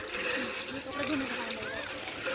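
Water splashes and spatters from a hand pump outdoors in Bhaderwah, a busy wet sloshing heard under several voices talking and calling out close by.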